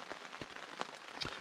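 Rain pattering on the Appalachian Trail while hikers wait for a break in the weather, a soft steady wash of drops punctuated by a few sharper close splats.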